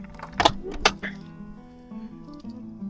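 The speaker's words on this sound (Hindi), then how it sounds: "और दूसरे वाला एरिया भी इसका डोर बंद कर देते हैं" A van's doors are shut during packing, two sharp slams in quick succession followed by rattling and a low hum, close by.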